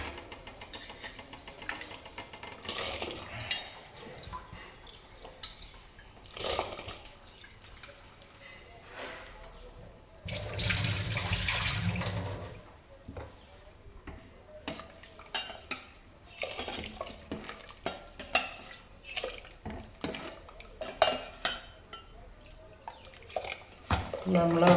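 Rice and a coconut-shell ladle get washed in a kitchen, with water splashing and swirling, hollow knocks and scrapes against a pot, one longer rush of running water midway, and faint household noise behind.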